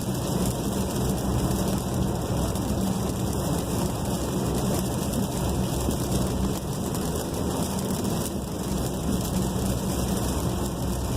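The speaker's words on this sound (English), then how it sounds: "It runs just fine in the rain like this on a wet, super wet road." Steady rain and wet-road tire hiss inside a moving VW Tiguan with all-wheel drive on a super wet road, a continuous broadband wash with low engine and road rumble throughout, loud and unbroken.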